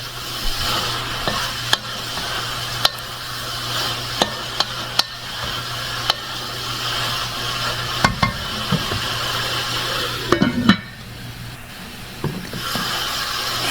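Garlic, onion and tomato sauté in a pan with a steady broadband sizzle, punctuated by sharp clicks and scrapes of stirring throughout, plus a low hum beneath.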